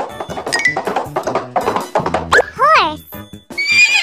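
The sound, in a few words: horse neighing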